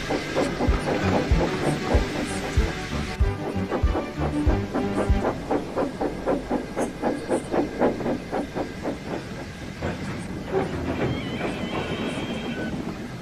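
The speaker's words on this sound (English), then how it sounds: "Then he steamed wearily back to the yard for some quiet shunting." A steam locomotive shunting slowly around a railway yard, its steady rhythmic chuffs and hissing steam close and fairly loud throughout, with no voices.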